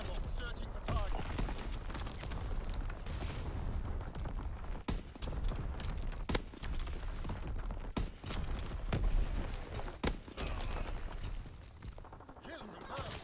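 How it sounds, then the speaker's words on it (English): Artillery and gunfire in Call of Duty multiplayer, with scattered sharp shots and distant explosions over a dense, steady battle din; voices are heard in the mix. "Incoming enemy artillery."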